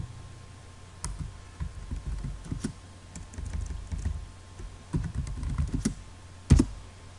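Keys on a computer keyboard are typed in irregular bursts of soft clicks, with short pauses between runs and one sharper tap near the end, quiet and close with no talking.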